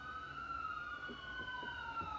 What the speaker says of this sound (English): I live near the hospital, so of course we get the sirens.